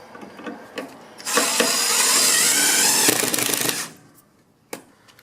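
Screws driven in with a power drill to fix the left bracket of an electric fireplace against pre-drilled tile, one sustained whirring burst of a couple of seconds with clicks before and after, close by.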